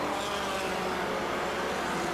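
Race cars roar around the short oval at Autodrome St-Eustache in a 1994 American Canadian Tour race, a Volkswagen Scirocco leading; a dense, loud, continuous engine drone fills the moment without a break.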